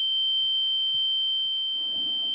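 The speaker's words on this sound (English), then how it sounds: "it still sounds like you have a fire alarm going on." A fire alarm sounds steadily as a continuous high electronic tone, with faint background noise and a few soft low thumps beneath it.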